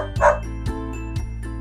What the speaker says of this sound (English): It's a dog. Dogs say woof.